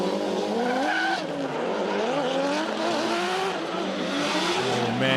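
Drift car screaming at high revs with sustained tire squeal on the Sydney Motorsport Park circuit during a drift competition battle, loud, continuous engine wail with shifting pitch throughout.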